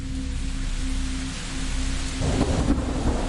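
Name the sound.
thunderstorm with heavy rain, story sound effect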